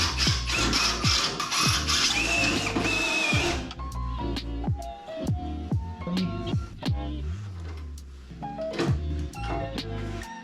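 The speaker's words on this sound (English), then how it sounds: "you put that in the hole and you crimp it, and then you have a nice threaded hole to screw all your bolts into" Threaded inserts are crimped into drilled holes on a Jeep Comanche fuel tank bracket, with a loud grinding whir at first, then a string of sharp metallic clicks and clunks, close and with no voices.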